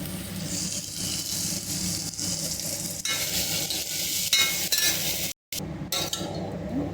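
Dal is tipped into a pan of fried tomatoes and stirred, with a soft sizzle under scraping and the clink of a spoon against the pan, close and continuous, a short silent gap near the end.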